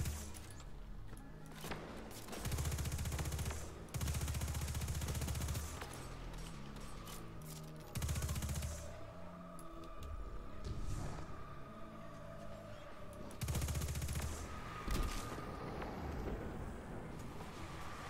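Gunfire in the video game Destiny 2 as floating balls are shot, heard as repeated loud bursts of rapid shots separated by short pauses over a busy game soundscape.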